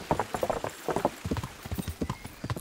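Rhythmic clip-clop of horse hooves in the video game Kingdom Come: Deliverance, fairly close and steady, with a game-like quality throughout the short stretch.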